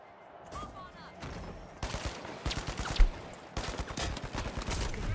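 Shotgun blasts and rapid gunfire from a competitive shooter video game, a dense burst of loud shots with sharp peaks, heaviest in the second half and occurring without any talk.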